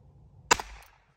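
A single sharp gunshot from a Ruger Wrangler .22 single action pistol cracks out once outdoors, fairly quiet and brief, with a short decaying tail.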